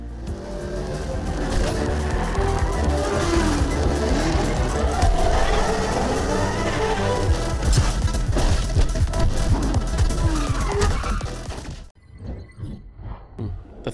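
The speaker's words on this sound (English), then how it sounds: "You could use all sorts of boosts and special abilities to race your car down the track." Race car engines roar continuously down a track in the Fortnite video game, a dense, loud mix of engine drone and tire noise with sharp crashes, before cutting abruptly to near silence at the end.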